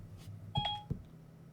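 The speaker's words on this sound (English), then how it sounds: "sometimes my phone likes to go off when I say the word series" A phone beeps twice in a quiet room, two short electronic tones about a third of a second apart, moderately clear over a soft background hum.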